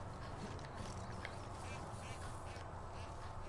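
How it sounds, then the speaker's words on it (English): Ducks quacking in the video game Far Cry 5, faint and continuous under a steady bed of game ambience. "Oh, look at the ducks chirping."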